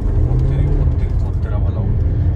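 A Mercedes GLC300d diesel SUV accelerates hard in Sport Plus mode, heard as a steady low engine and road rumble from inside the car while someone talks excitedly over it.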